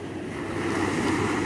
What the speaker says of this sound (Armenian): հնդկական օվկիանոս։